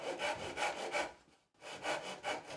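A hand saw cuts through wood on the treehouse extension being built on a living tree above snowy terraced rice fields at Hoshitoge, Matsudai, in repeated back-and-forth strokes, one brief pause partway, then steady strokes again, close and alone.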